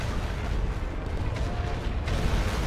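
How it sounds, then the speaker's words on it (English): Artillery barrage in the World War One game Elite Great War on the Western Front: a dense, rumbling wall of low booms and distant blasts rolling continuously, with no clear gaps between impacts. "The barrage will be over shortly, I suppose."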